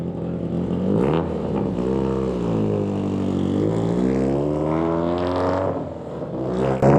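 A BMW race car accelerates away on the Estoril track, its engine rising and falling through several revving gear shifts as it pulls off, loud and sustained and then easing as it moves off.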